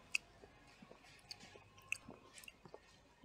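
Someone chews a ripe Alpine White Soul strawberry up close, making faint, soft crunching and wet mouth sounds with a few sharper clicks.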